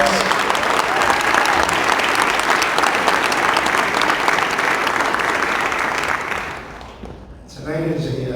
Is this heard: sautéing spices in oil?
no